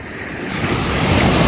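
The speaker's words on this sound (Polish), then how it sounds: "W tym punkcie tutaj są najfajniejsze fale." Ocean waves on a Dominican Republic beach surge in a close, steady roar that builds slightly louder, with some wind buffeting the microphone.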